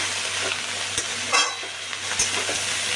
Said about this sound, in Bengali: একটু নাড়াচাড়া করে মিশিয়ে নিচ্ছি ফোড়নটার সাথে